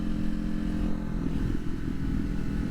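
A motorcycle engine droning steadily after a shift into fourth gear, with a low rumbling hum and wind noise heard from the rider's position, loud and continuous.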